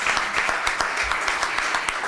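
Audience at an evening humanities event gives a round of applause for a panelist, with steady dense clapping throughout, moderately loud and close, with no talking over it.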